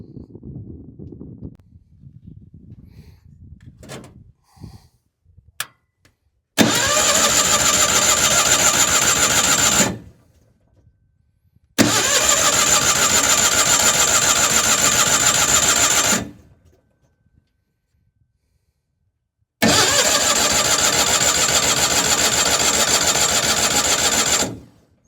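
The Onan Performer 16 engine on a Lincoln Ranger 8 welder cranks in three long, loud bursts separated by silence, each churning steadily for several seconds without catching, preceded by faint clicks and handling sounds.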